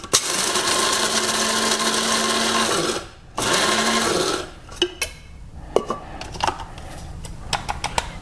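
Grinder grinding fresh coffee beans for a collapsible drip brewer: a loud, steady motor whir for about three seconds, a short second burst, then scattered clicks and taps as it stops.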